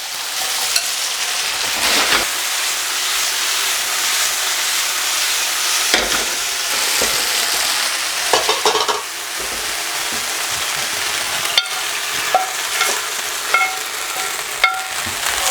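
Second batch of chicken for General Tso's chicken frying in oil, a dense, steady sizzle with scattered crackles and a few sharper pops and stirring knocks throughout, close and fairly loud, with no talking.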